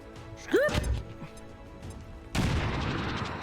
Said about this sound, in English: The giant explosion didn't pull them.